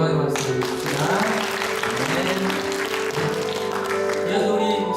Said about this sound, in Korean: 이 만남을 주신 하나님께 영광의 박수를 드립니다.